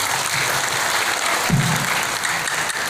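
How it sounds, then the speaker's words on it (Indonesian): A talk show audience in Singaraja, Buleleng, applauds in a brief, full burst of steady clapping lasting about three seconds. "Tepuk tangan untuk Buleleng."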